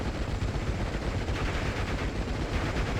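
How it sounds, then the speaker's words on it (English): A Panzerfaust anti-tank launcher fires in the WWII strategy game Steel Division 44, set in dense, continuous battlefield gunfire and rumbling combat noise with no clear single blast standing out. "We had fire off a Panzerfaust"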